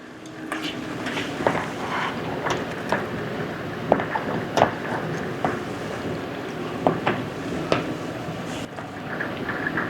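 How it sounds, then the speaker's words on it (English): Steady rain patters outdoors with a continuous hiss and scattered sharper drips and taps, moderately loud, with no voices. "It's raining pretty good."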